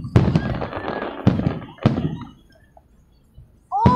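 Several loud fireworks bursts boom and crackle one after another, each fading into echoing rumble, with a short lull before another burst.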